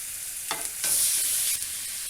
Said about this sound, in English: We're just putting the sear on the inside of them.